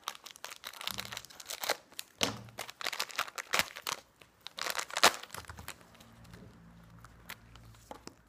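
A foil-wrapped chocolate being unwrapped by hand, with close, irregular bursts of crinkling and tearing foil that settle into quieter rustling near the end.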